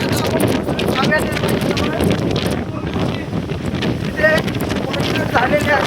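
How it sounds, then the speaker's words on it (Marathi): Strong gusting wind buffets the microphone high on Salher Fort, a hilltop fortress, a loud continuous roar with air rushing upward from below, steady throughout. "भयानक वारा आहे इथं आणि वारा असं वरती खेचतोय"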